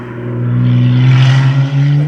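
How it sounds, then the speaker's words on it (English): Lotus Emira V6 with a manual gearbox accelerating hard, its loud, steady engine drone rising in pitch and swelling in intensity, heard up close and alone for a couple of seconds. "If we just accelerate, you can probably hear it's pretty loud."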